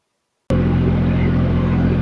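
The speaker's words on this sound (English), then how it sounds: "JT5 SST M4 mini skid steer with a clump bucket attachment." A JoyT5 JT5 SST M4 mini skid steer with a clamp bucket attachment, its engine catching after a moment of silence and then settling into a loud, steady, low idle close by.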